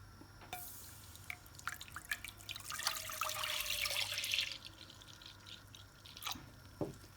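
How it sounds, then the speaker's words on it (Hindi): Milk, about a kilo, poured into a cooking pot for shahi tukray, a soft liquid stream and splashing that swells in the middle and then trails off into a few drips, with no talking. "यहाँ मैंने देगची रखी है और इसमें तकरीबन मैं 1 किलो दूध शामिल कर रही हूँ।"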